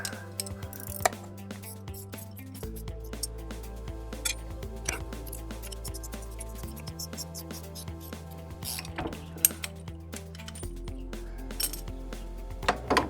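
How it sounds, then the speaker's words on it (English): Metal tools clink and tick while bolts are worked off a Ural motorcycle driveshaft with a 13 mm wrench, scattered sharp metallic taps and ratcheting clicks over a steady low mechanical hum. "Now with a 13 millimeter wrench, we should be able to take the two bolts out."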